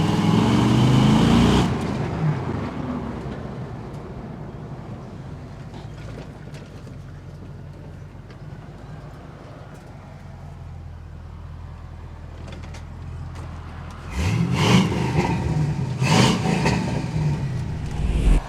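A truck pulls away and accelerates, its engine rumbling low and steady through a long cruise, then swelling louder near the end as it climbs again, with road and cabin noise underneath.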